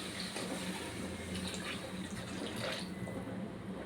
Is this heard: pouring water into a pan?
yes